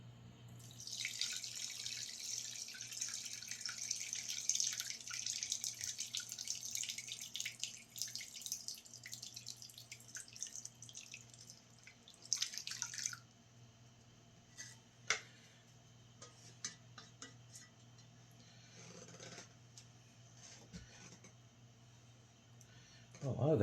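Whey from homemade ricotta pours and drips through cheesecloth into a bowl, a quiet splashing trickle that is busiest early and then thins to scattered drips.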